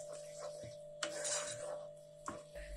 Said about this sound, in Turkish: Eklerken hızlı hızlı karıştırın.